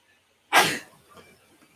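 A single loud, close sneeze bursts out sharply and fades, followed by faint breathy sounds and a small click near the end, in a cold outdoor setting.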